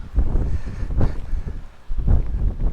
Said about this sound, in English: the way the wind is blowing right now, which it was not blowing this hard just 5 minutes ago